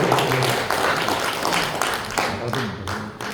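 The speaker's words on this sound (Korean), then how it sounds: "큰 박수" An audience at a fathers' school lecture bursts into applause, a dense, steady wash of clapping that holds for several seconds at moderate loudness.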